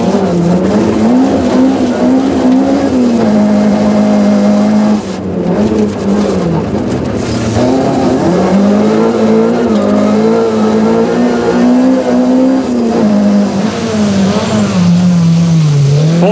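On-board engine roar of a Total Bridgestone Nissan rally car at speed in South Africa, loud and continuous with rising and falling revs through gear changes and a brief dip midway, no talk.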